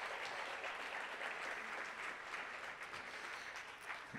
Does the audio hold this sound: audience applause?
yes